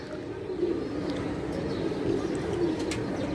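Racer pigeons coo softly and repeatedly, low throaty calls rising over a dense close background murmur of other birds.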